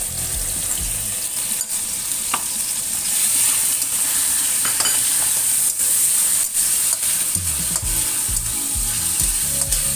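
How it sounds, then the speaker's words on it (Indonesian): Shrimp stir-fried in sautéed, fragrant spices for a sweet, sour and spicy dish with vegetables, giving a loud, steady sizzle with stirring and scraping in the pan throughout, no voices. "Tumis sampai harum, lalu kemudian masukkan di sini udangnya."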